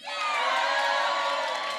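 An audience from Witney at an award ceremony cheers loudly, with shouts and whoops merging into a dense, sustained roar for a couple of seconds.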